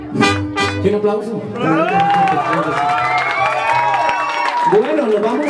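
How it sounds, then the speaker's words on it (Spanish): A crowd applauds and cheers loudly after a mariachi song at a birthday celebration, with whoops and shouts rising over the clapping. "Y un aplauso."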